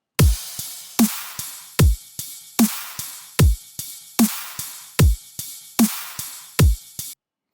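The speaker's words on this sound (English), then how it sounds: "My drums sound like this." A steady drum loop of booming kicks alternating with crisp snare hits, plus lighter ticking hits in between, repeating evenly for several bars.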